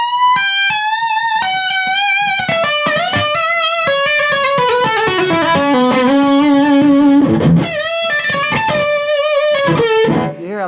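An electric guitar runs through a distortion pedal boosting an already driven amp, playing loud, sustained, singing lead notes with bends and a sliding run, thick and saturated throughout.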